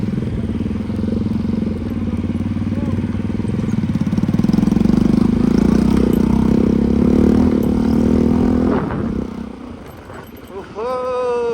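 A motorcycle engine runs steadily on a road trip to Surya Chaur in Nepal, its droning note slowly climbing before it drops away near the end, with voices talking over it.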